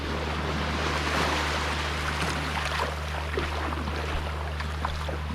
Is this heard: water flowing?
yes